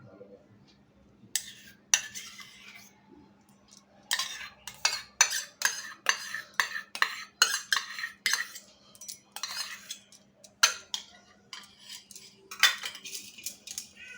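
Pizza dough ingredients with yogurt, salt and baking soda being mixed in a bowl with a spoon, a quick run of clinking, scraping strokes against the bowl, steady and close, with brief pauses between bursts.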